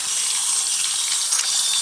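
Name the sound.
RV faucet water running as tank empties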